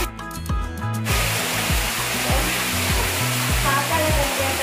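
Dense, steady roar of water pouring in an underground cave fills the clip, with a low tonal hum or music at the start and occasional faint voices in the echoing space.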